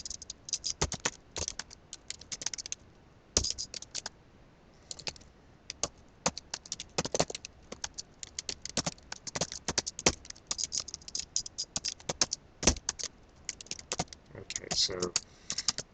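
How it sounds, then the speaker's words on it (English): Laptop keyboard keys clacking loudly during steady typing, with rapid irregular bursts of close, sharp clicks separated by short pauses; a voice speaks briefly. "if you hear the keys are clacking loudly, that's something I haven't taken the time to correct"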